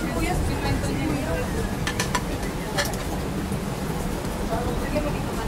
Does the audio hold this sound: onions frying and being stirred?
yes